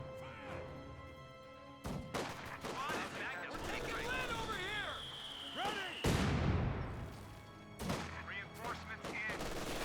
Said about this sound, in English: Mortars hitting there.